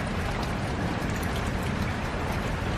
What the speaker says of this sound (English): it is pissing down rain